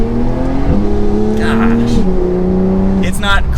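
A 992-generation Porsche 911 Carrera accelerates hard at full throttle from inside the cabin, its engine note climbing loudly and dropping sharply at two or three quick upshifts, with a voice talking briefly over the drone.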